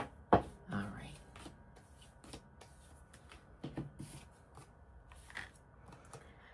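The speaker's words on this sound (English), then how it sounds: "I'm going to do one more shuffle." Soft, close riffling and slapping of tarot cards being shuffled in a few short bursts, with quiet pauses and faint rustles in between.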